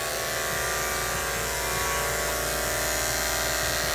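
Electric grooming clippers buzz steadily and loudly throughout while a Shih Tzu is groomed, a constant motor drone with no pauses and no talk.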